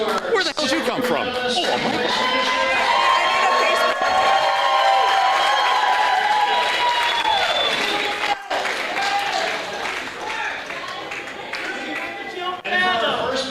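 Audience at a bocce championship game breaks into loud, sustained applause mixed with cheering, continuous for several seconds, then tapering off as voices talk over it.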